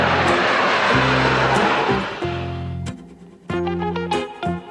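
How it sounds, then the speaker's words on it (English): Engine of an ambulance airplane, a loud close roar with a steady droning hum that rises and falls in pitch as the power changes, then drops to a lower rumble. "Ambulance airplane."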